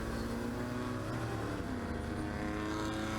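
A 1968 Ford Mustang race car in the ChumpCar World Series at Circuit of the Americas roars with a loud, sustained muscle-car engine note that shifts pitch as it revs. It sounds fairly near, with no talking.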